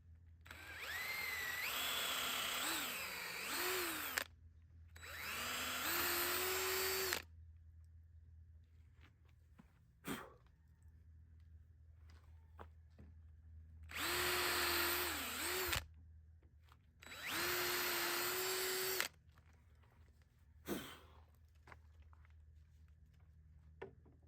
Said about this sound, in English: Okay, I'm gonna pre-drill these 2x6s now.